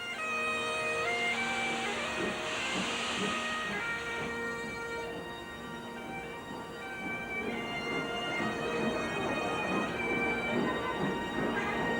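Flying Scotsman steam locomotive standing at a platform, with a steady hiss and rumble of released steam and whistling tones from the engine, close and continuous for the whole stretch.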